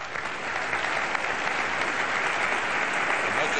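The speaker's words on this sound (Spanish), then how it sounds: "Por favor, recibamos con un fuerte aplauso al gran actor Arnaldo André." A live awards-show audience breaks into loud, dense applause for actor Arnaldo André, a continuous roar of clapping from many hands at a steady level throughout.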